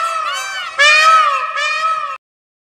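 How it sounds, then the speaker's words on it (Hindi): A peacock gives loud, piercing, wailing calls, three drawn-out cries back to back, close and alone, then it falls silent. "ये है मोर। मोर को कहते हैं पीकॉक।"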